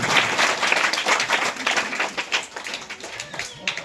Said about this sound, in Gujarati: જોરદાર તાળીઓના ગડગડાટથી વધાવીશું.